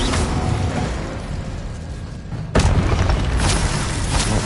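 An Incendio fire spell cast in the Hogwarts Legacy video game, a loud whooshing burst that erupts suddenly midway through over dense, continuous game noise.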